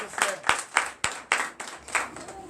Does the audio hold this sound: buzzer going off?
no